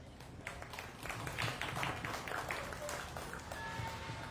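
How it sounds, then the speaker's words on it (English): Applause at a dairy and pygmy goat show rises after about a second, a modest crowd clapping softly in a show ring at some distance, with faint background noise and a few tonal sounds later on. "Let's give them a nice round of applause."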